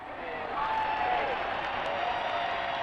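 A large crowd outside Buckingham Palace cheers the Queen on the balcony on Coronation Day, a dense, sustained wash of distant applause and voices that holds steady throughout.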